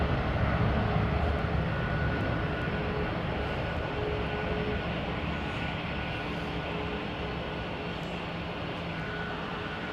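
IAE jet engines of an airliner roar steadily at a distance, a broad sustained rushing noise with a faint whine, slowly easing off.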